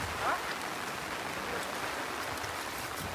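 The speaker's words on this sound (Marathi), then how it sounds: "बघा पाऊस पण आला." Evening rain falls over a farm field, a soft, even patter spread across the whole short stretch without any clear speech.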